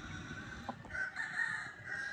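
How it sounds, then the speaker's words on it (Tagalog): A rooster crows across most of the clip, a loud drawn-out call with a bright steady tone and a mid-level wavering hum of farmyard noise beneath it. "Ito naman yung isang manok ni Sir J na nakuha"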